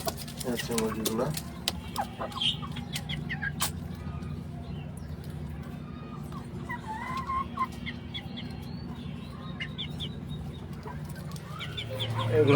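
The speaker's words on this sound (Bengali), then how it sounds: "এগুলো হচ্ছে টাইগার মুরগি" Tiger chickens kept on a home balcony cluck and chatter in scattered bursts over a constant low hum, busiest at the start and again near the end.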